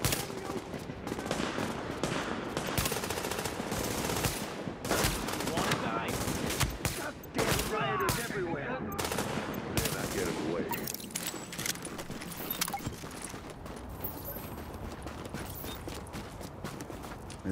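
Gunfire in Tom Clancy's The Division during a street firefight near West 29th, with rapid bursts and single sharp shots cracking repeatedly at moderate loudness, mixed with game sounds and occasional talk.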